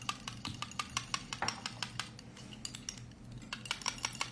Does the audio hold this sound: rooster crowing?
no